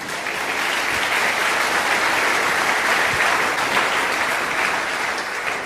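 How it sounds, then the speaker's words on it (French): A church congregation at a French-language sermon breaks into sustained, dense applause, steady and loud throughout with no individual voices standing out. "Acclamons le Seigneur."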